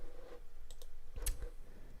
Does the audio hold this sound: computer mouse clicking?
yes